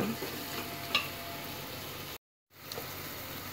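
Masala being stirred and fried in a pan for a dried-fish curry with brinjal, a steady soft sizzle with scraping stirs, one brief dropout midway.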